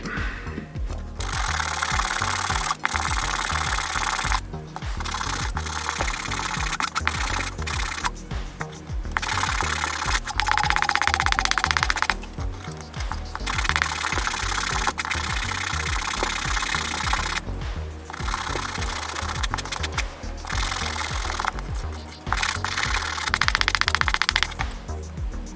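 A sterling silver name tag is sanded with a powered tool, giving a loud, close, continuous buzzing grind with a rough rattling texture, broken by a few short pauses and shifts in pressure, with no talk.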